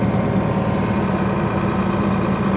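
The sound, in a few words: Ford F650 truck with Cat 3126 diesel engine revved up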